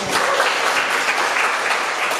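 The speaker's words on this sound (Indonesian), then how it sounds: "Beri tepuk tangan Bapak Ibu." Workshop participants at a university counselling session break into applause, a thick continuous roar of many clapping hands, loud and even from start to finish.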